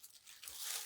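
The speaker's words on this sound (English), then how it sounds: "Then I usually slice away like this." A knife slices away at plastic in one brief, soft scraping tear that grows slightly louder as the cut finishes.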